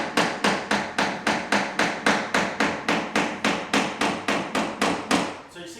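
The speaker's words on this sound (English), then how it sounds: "Now I can take my little grooved tapping block right here, and I'm going to tap it in there." A grooved tapping block knocks LVP flooring planks into place with a steady run of about fifteen evenly spaced, sharp hollow thuds, each decaying quickly. The strikes are close and there is no talk.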